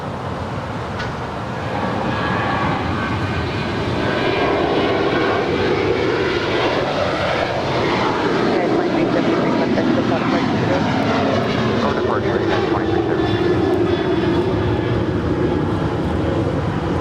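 Airliner jet engines spool up and roar steadily through a takeoff run at Los Angeles International Airport, loud and sustained throughout, with faint radio chatter beneath the noise.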